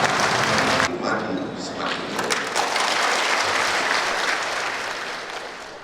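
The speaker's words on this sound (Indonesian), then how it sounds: "mohon tepuk tangan yang meriah untuk Gubernur Sumatera Selatan" An audience at a formal plenary council session in Ogan Ilir applauds the governor of South Sumatra, a dense burst of clapping that eases into a steady, gradually fading patter.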